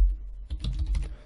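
A short run of computer keyboard typing as a git clone command is entered, quick light key clicks close by after a brief pause, with no talk.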